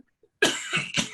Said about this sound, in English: Little cough attack